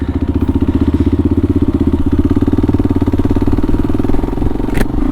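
A Kawasaki KLR650 motorcycle engine runs at a steady, close, loud idle with an even thumping pulse on a snowy day, and a brief click is heard near the end.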